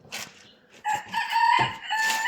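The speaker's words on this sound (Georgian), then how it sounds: "ვისაც ნერვები ეშლება ჩემი მამლების ყივილზე" A rooster crows loudly and close by on a farmyard morning, a single full cock-a-doodle-doo with a few clucking notes around it and no voices.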